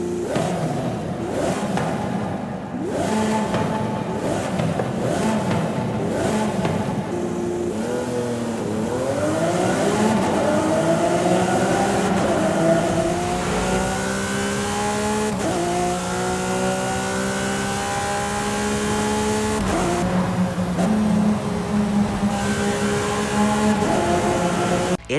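Lamborghini SVJ V12 engine in Forza Horizon 5, revving hard through a tunnel with repeated rising sweeps as it climbs through gears, loud and continuous with sharp shift breaks.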